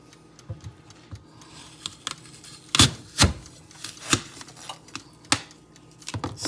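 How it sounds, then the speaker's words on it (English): A knife slicing an apple on a cutting board during breakfast prep, giving a series of sharp, close crunchy cuts and taps spaced irregularly against a quiet kitchen background. "That's to cut up an apple."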